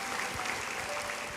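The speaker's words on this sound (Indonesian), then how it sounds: "berikan tepuk tangan bagi Tuhan." A church congregation applauds during an Easter service, a continuous wash of clapping heard from a distance.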